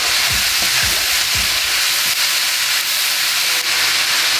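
Celery and leek sauté in a pot for beef bourguignon, a loud, close, continuous hiss with a few spoon stirs scraping through it at the start.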